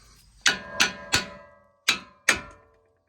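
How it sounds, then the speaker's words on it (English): Hammer pounding on a truck's steering spindle during an upper control arm install, five loud close metallic strikes with ringing decay, three quick blows, then a pause and two more. "you're basically going to just pound the absolute shit out of it with a hammer"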